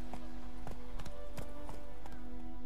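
Hoofbeats of the horse Roach in The Witcher 3, a steady clip-clop of about five strides over a constant low hum, close and clear.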